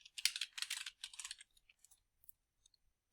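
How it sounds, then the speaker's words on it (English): Quick bursts of typing on a computer keyboard, close and crisp for about a second and a half before thinning into a few isolated key taps. "I'm going to type in affidavit"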